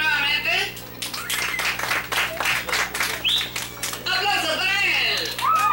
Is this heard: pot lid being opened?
no